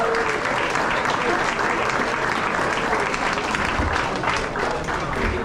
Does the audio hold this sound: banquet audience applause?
yes